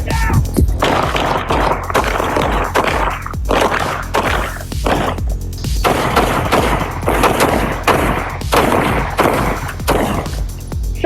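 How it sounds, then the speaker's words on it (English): Gunfire in an apartment during a police confrontation: a rapid, loud series of close shots and sharp cracks, irregular bursts, continuing densely for about eleven seconds. "Shots fired! Shots fired!"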